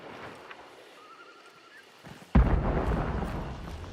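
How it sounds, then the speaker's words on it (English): Explosion in the video game Hunt: Showdown, a single sudden loud blast followed by a sustained rumbling roar after a quieter stretch of ambient sound. "Someone just died in that explosion, I think."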